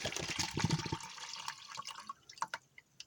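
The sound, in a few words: water poured into MRE ration pouch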